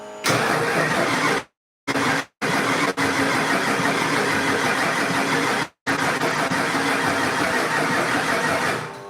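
A 1989 Ford Mustang with a 351 Windsor V8 cranks and catches, its loud broadband engine noise broken by several short cutouts before running on steadily, close by.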